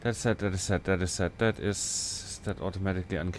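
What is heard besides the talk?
No everyday noises stand out.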